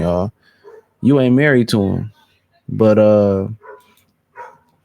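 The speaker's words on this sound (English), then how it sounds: "Sorry for the dog barking" A dog barks in short bursts close by, mixed in with someone talking loudly about football over it.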